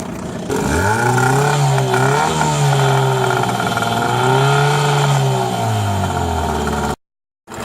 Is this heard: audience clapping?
no